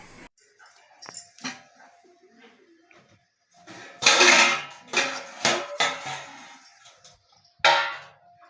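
Coconut ghee rice made with jeeraga samba rice is stirred in a pot: scattered metallic scrapes and clanks of a spoon against the vessel, irregular and close, with quieter gaps between bursts.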